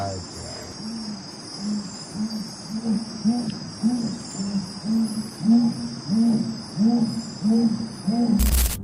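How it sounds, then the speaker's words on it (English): A steady series of deep, hoarse grunting calls from a jaguar repeats at night, moderately distant, over a constant chorus of chirping crickets. "Barulho de onça"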